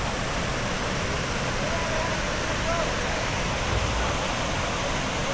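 A tall waterfall with a very strong current pours down continuously in a steady, dense roar of rushing water that stays loud and unbroken throughout, with no other sound standing out above it.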